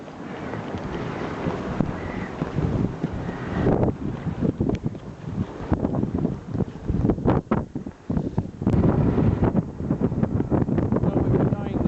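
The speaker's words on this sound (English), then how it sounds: "So we've been going about half an hour, sailing along at over 6 knots." A Compass 28 sailboat crossing Bass Strait under a triple-reefed main at over six knots, with steady wind rushing and buffeting the microphone and waves sloshing against the hull throughout.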